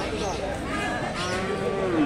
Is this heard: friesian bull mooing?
yes